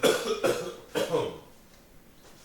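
A person coughs two or three times up close, in harsh bursts that then fade into a quiet room.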